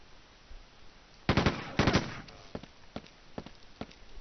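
A gun trap in Quake II fires two sharp, loud bursts of rapid shots, followed by a string of single, evenly spaced shots that trail off more faintly.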